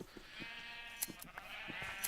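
In Minecraft, sheep being sheared bleat in a steady stream of wavering baas, close and moderately loud, with sharp clicks and snips of in-game actions scattered through and no voices.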